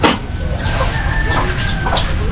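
Chickens cluck steadily close by, with occasional higher calls over a continuous farmyard background, no talk.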